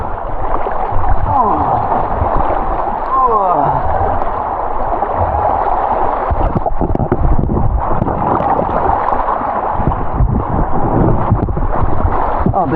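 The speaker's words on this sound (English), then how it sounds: "I don't think people realize how fast of a rapid this is." Fast river rapid rushing around a person riding a tractor tire float: loud, continuous churning water roar mixed with wind buffeting the microphone, close and unbroken, with some faint voices underneath.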